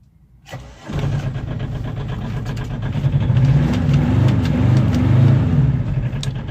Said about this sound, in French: Le moteur est chaud, hein. Alors sur le moteur, on est sur un moteur Kubota Z482.